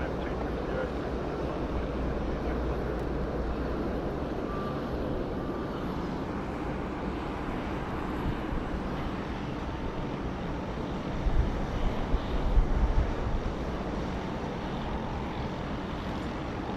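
A Dash 8 Q400 turboprop at Sydney Airport, heard as a steady, distant engine rumble with a low drone, rising briefly a little louder toward the end.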